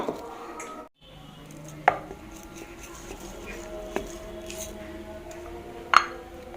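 A knife chops fresh ginger on a cutting board for a herbal remedy. Three sharp, separate strikes land about two seconds apart over a low room hum.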